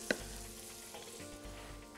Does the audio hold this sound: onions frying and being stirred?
yes